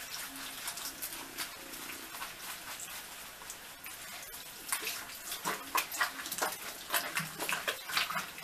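Tap water runs steadily while a wig is rinsed under it, a continuous splashing wash that grows louder and more uneven toward the end.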